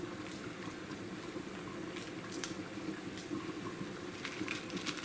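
Water boiling in a pot of chiles on the stove, a steady bubbling hiss and patter running continuously throughout, fairly close with no talk.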